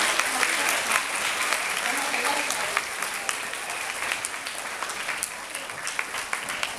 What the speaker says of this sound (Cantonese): 我哋再一次掌聲多謝老師